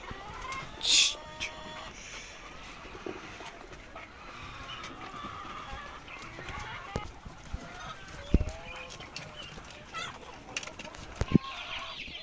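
Chicks about 1.5 months old peep and cheep in a noisy coop, with occasional clucks, wing flaps and scattered knocks throughout.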